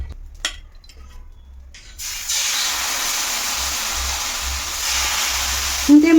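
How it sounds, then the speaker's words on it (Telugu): Rava dosa batter poured onto a hot pan for a semolina dosa, a steady loud sizzle and hiss that kicks in after a quiet start and holds continuously to the end. "ఇప్పుడు మనం రవ్వ దోశ వేసుకుందాం."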